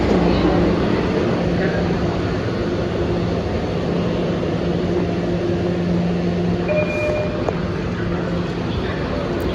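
A tram pulls into Kenmore Square station on a US light-rail system with a steady rumbling roar and brief tonal squeals near the end; a voice is heard under the noise.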